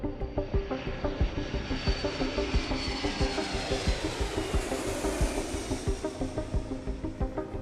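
Engines of a P-8 Poseidon and a KC-135 Stratotanker roar steadily in flight, with a rhythmic pulsing throb and a slowly sweeping whine overhead.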